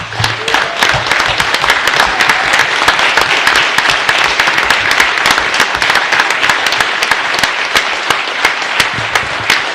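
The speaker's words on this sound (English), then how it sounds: "I would just ask that everyone give them all a round of applause." A room at a city council meeting breaks into a steady round of applause, dense clapping continuing at an even level for about ten seconds with no talking over it.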